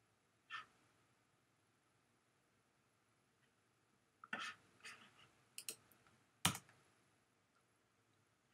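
Sparse computer mouse clicks while setting up a WordPress blog: an isolated click, then a cluster of several quick, crisp taps, all close and quiet against a near-silent room.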